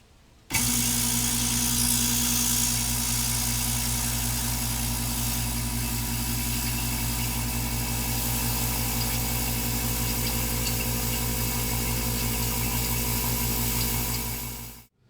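A vacuum brake bleeder tool for a Chevy Tahoe brake line job starts up and runs with a steady, loud droning hum and fixed tones for about fourteen seconds, pulling into a heavy-duty paint bucket.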